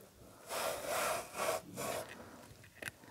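Food is sliced very thinly along its length on a mandoline slicer set to its finest level, four rhythmic rasping strokes close up, followed by a couple of faint clicks.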